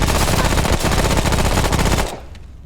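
Sustained rapid automatic gunfire from the video game Remnant: From the Ashes, loud and continuous for about two seconds, then cutting off abruptly into quiet.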